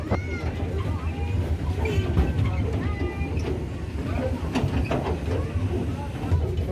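Steady rumbling and hissing of a moving train on the Araku route, with a constant low drone beneath and voices talking over it.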